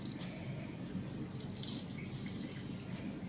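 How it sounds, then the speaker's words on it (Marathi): Water trickling and dripping steadily as soaked soya chunks are squeezed by hand, close by, with a soft continuous splatter and no voices. "आता पिळून काढायचं आपल्याला, कारण त्याच्यात पाणी असतं."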